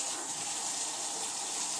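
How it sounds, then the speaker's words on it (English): A kitchen tap runs steadily, with a continuous gushing hiss of water pouring into the sink for a couple of seconds and no talking. "Just let the tap run while you're doing it."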